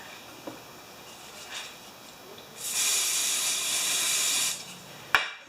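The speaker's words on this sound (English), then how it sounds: "I'm going to put carburetor cleaner on there." Carburetor cleaner sprays in a steady aerosol hiss for about two seconds onto the carburetor of a Honda generator, preceded by faint taps and followed by a sharp click, with no talking.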